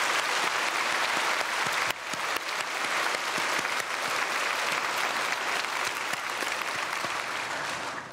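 A church congregation at a Sunday worship service applauds the orchestra with dense, sustained clapping that briefly dips partway through and then carries on steadily to the end.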